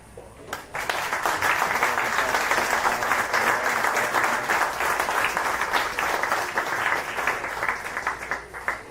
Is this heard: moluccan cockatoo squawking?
no